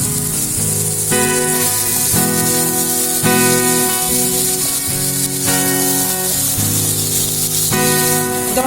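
Onion and garlic paste frying in hot oil for coconut milk pilau, a steady loud sizzle and hiss running throughout with background music over it.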